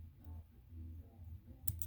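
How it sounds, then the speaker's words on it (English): Small scissors snip fly tying thread at a fly tying vise, a single faint, sharp click near the end over a quiet low hum. "You can snip that."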